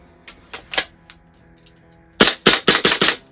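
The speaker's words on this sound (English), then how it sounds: "The red tab also lets you have a dry fire mode, so you can intentionally get that out of the way and use it dry fire" A VFC Cybergun XM177E2 gas airsoft rifle dry fires: three sharp separate reports, a pause, then a fast string of five snappy cracks, loud and close.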